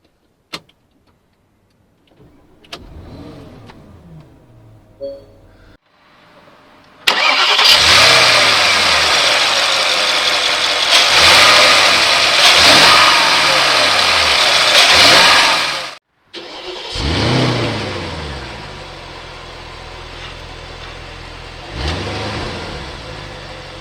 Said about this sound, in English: let's do a test drive in this Porsche Cayenne Turbo